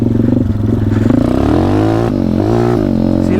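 Small engine with an upgraded sprocket accelerates hard in first gear, the revving tone climbing steadily and holding loud and close for several seconds, with a brief dip and recovery as it pulls.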